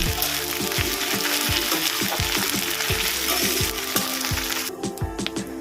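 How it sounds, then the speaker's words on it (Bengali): Ginger-garlic paste fries with onions in a pan for chicken muitha, a steady loud sizzle with rhythmic scraping stir strokes throughout, no voices. "আমি এর মধ্যে দেবো এক চামচ আদা রসুনের পেস্ট এটাকে ভালো করে কষিয়ে নেব"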